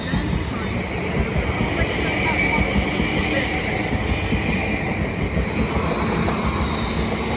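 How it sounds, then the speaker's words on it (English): A London Northwestern Railway electric train pulls out of Watford Junction on the West Coast Main Line, a steady rumble and wheel noise rolling alongside the platform over several seconds, with platform announcements heard over it. "Departing now is the 1202 London North Western Railway SAS to London Euston"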